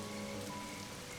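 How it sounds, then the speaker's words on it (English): Heavy rain pours down on the Serengeti, a steady dense wash of falling water, close and even, with no voices over it. "Rain is pouring down the Serengeti."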